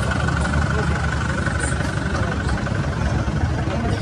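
A car engine idles with a loud, continuous, steady rumble that does not change for the whole stretch.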